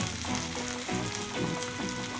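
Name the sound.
garlic and small onions frying with mustard and cumin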